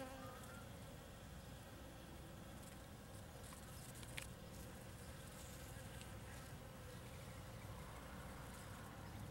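Bees buzzing around hybrid cactus flowers, a faint continuous hum of several insects close by with brief louder passes, no talking.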